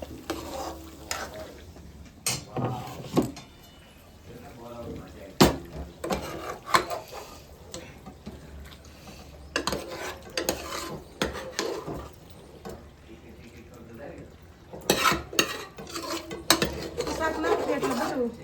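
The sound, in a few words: vegetables added to a pan and stirred for pav bhaji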